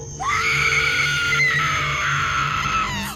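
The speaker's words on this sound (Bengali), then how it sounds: "কেলি চিৎকার করে ওঠে।" A woman screams in a Bengali horror audio story, one long, piercing, sustained shriek that wavers in pitch and lasts about three seconds, loud and close, over a faint low rhythmic background.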